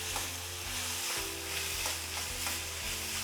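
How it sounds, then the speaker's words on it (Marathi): Onion sizzles and fries in hot oil in a pan, a steady close crackle with faint stirring scrapes and a low background hum. "अजून थोडा वेळ, एक 5 मिनटं तरी हा भाजायचा आहे आपल्याला कांदा"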